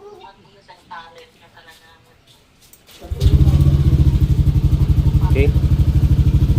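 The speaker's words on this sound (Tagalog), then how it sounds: "Smooth nung takbo ng makina, di ba?" A Yamaha Aerox V2 scooter with an aftermarket pipe and 1,767 km on it starts after a few quiet spoken words, then idles loudly and steadily up close with a throbbing, even rhythm.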